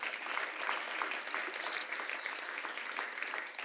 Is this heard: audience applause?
yes